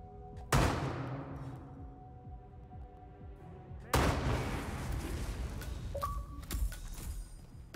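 Two loud, isolated gunshots ring out in a video game, each followed by a long decaying echo, with quieter clatter and small impacts in between.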